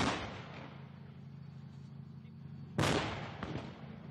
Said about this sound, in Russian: Танк произведет всего 3 выстрела, один вы уже видели, второй был сейчас.